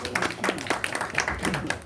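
Scattered applause from a small audience at a book fair in Gothenburg, a few hands clapping unevenly and close by, with faint background murmur and no clear speech.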